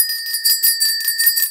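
A high, thin bell rings rapidly and continuously, a shimmering metallic jingle with a sustained tone, close and fairly loud.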